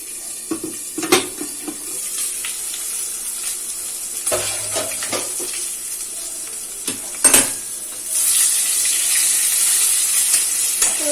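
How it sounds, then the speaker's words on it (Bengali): Pointed gourd (potol) fries in oil in a kadai, giving a steady sizzle with a few clinks and scrapes from a utensil, growing a little louder toward the end. "আমার এখানে পটলগুলো ভাজা হয়ে গেছে"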